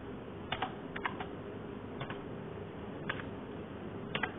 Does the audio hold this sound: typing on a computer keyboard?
yes